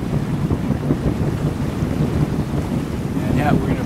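Boat under tow to a boatyard, its engine out of action, with a steady low wash of water and wind rumble throughout and no voices.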